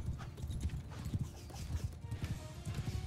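Dense galloping hoofbeats from horses in a video game battle drum steadily throughout, with a faint whinny in the background.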